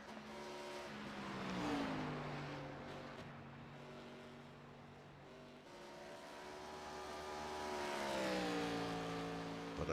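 ARCA stock cars on the final lap at Indianapolis Motor Speedway in iRacing, engines droning and rising in pitch as they pass, a steady mechanical whine that swells and shifts twice.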